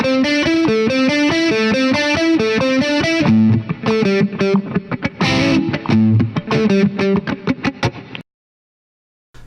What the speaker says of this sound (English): we're going to put 3 notes on every beat, and those are 8th-note triplets.